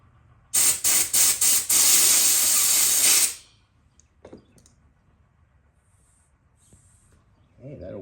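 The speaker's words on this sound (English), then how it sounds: "Blast some carburetor cleaner through there. Hit it with a little compressed air." Compressed air blown through the carburetor of a 2002 Craftsman 21-inch mulcher mower with a 6.5 Quantum engine: a few short loud hissing blasts, then one sustained blast of about three seconds, followed by quiet handling noises.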